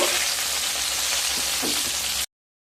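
Bhetki fish pieces frying in hot oil give a close, steady, loud sizzle that runs unbroken for about two seconds, then stops abruptly.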